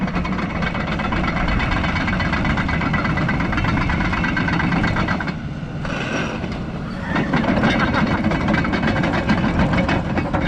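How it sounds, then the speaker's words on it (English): An excavator engine rumbles steadily and loudly while the machine works its way down a snowy winter hill. The drone eases briefly near the middle, then returns at full strength. "I'm going to show you how we get down Ice Street Hill with an excavator"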